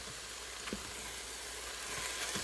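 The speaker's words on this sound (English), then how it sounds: "Now I'm going to give it a good stir." Beef rendang sizzling in a pan with meat, coriander, cumin and dried shallots as it is stirred, a faint steady fry with a few soft scraping clicks from the spoon.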